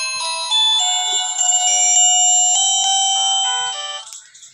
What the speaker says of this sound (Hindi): अच्छा फ़ोन आ गया